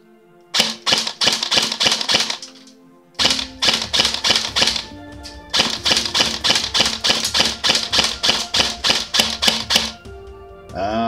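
An airsoft gun firing rounds through an Acetec Predator MK3 tracer unit, sharp rapid snapping shots in quick bursts of roughly a dozen, close and loud, with short pauses between strings.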